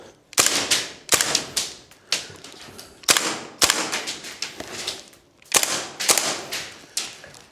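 A WellPro AK12 gas blowback airsoft rifle fires full auto in repeated short bursts of sharp rapid cracks, loud and close, with brief pauses between strings.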